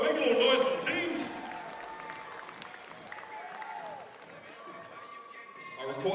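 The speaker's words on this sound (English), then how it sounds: "Come on, give them a round of applause." Crowd applause at a CrossFit competition in Samoa, a burst of clapping loudest at the start and then settling into a steady wash, with voices and shouting mixed in.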